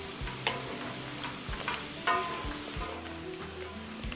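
Caul fat, pork liver and pork kidney frying in oil with slices of ginger, a continuous sizzle broken by a few stirring clacks, heard under background music.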